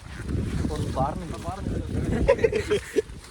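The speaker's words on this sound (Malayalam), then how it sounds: "ശക്തമായ കാറ്റാണ്." Strong wind buffets the microphone on a hill trek near Lalpur dam, a steady low rumble and gusting roar beneath a person talking close by.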